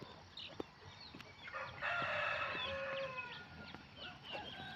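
A rooster lets out a long, strong crow midway through, with bird chirps and rustling outdoor ambience around it.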